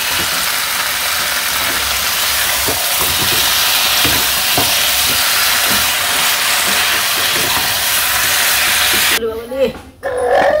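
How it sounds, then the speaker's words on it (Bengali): Village-style chicken curry cooking, with meat, spices and two potatoes stirred in a pan, gives a steady loud frying sizzle broken by scraping stirs, and a person speaks briefly near the end. "এখন মশলার সাথে মাংস ভালো করে কষিয়ে নেই"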